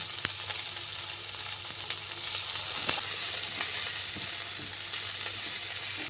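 Onions frying in a pan with chopped tomato and coriander leaves added, giving a steady close-up sizzle with scattered light crackles and pops throughout.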